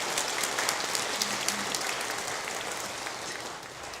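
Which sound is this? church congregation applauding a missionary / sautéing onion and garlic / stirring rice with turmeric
church congregation applauding a missionary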